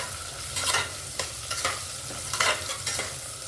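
Potatoes fry in a pan for dal khichdi, sizzling under repeated close scrapes of a stirring spoon, with a steady low hum underneath and no voices.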